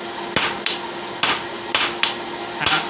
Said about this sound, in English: Half face blows, so half on, half off of the anvil.